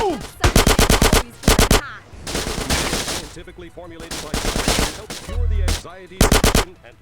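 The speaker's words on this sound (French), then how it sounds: "Je me fais tirer dessus comme un lapin là." Rapid bursts of automatic gunfire from GTA San Andreas crackle loudly in repeated volleys, mixed with game sound effects and scattered single shots, while a player talks between bursts.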